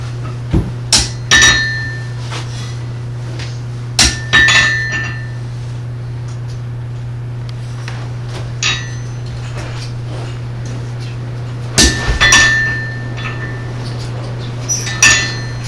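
Sharp metallic hammer strikes ring out in short clusters, separated by pauses, over a constant low electrical hum.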